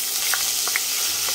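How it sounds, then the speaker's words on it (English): Onions fry in hot oil for green gram soup, a loud, close, steady sizzle with a few sharp pops and crackles scattered throughout. "we have to fry them for 1 minute till they're golden browned"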